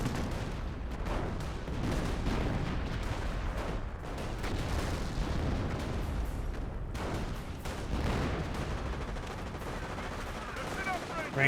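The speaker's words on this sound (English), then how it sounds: "Oh no, that's the sector artillery airburst rounds" Artillery airburst rounds in Company of Heroes crackle and thump among steady battle gunfire, a dense, continuous barrage with scattered sharper bursts throughout.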